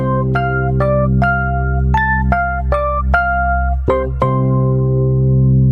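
Synth-like notes from a MIDI pad controller struck in octave pairs, about a dozen evenly spaced hits forming a short melodic phrase over a steady low drone, clear and close.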